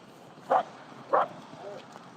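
A dog gives two short, sharp barks close by, spaced about half a second apart, followed by a softer, fainter whimpering sound; no talking is heard.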